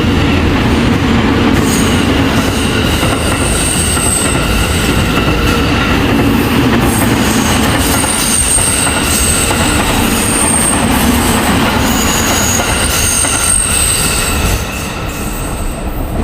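A train runs along a Sri Lankan coastal railway, its steady loud rumble close by with wheels squealing in high intermittent whines and faint rhythmic clatter throughout.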